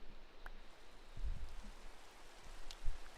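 Rain in a space adventure video game patters steadily as a soft, continuous hiss with a few faint drop ticks, low in level and without talk.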